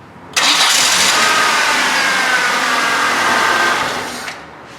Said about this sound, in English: we've let the engine run for about 40 seconds or so